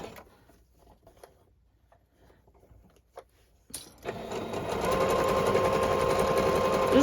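A sewing machine stitching a tight zigzag on fabric bunting starts after a few quiet seconds of handling noise, then runs as a loud, steady mechanical whir close by, with no talk.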